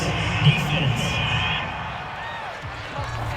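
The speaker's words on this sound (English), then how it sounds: "This home crowd, they're happy with that call." A home stadium crowd in the Madden NFL 22 football video game roars steadily over a call on third down, a broad wash of cheering with a brief louder swell early on and a commentator's voice mixed in.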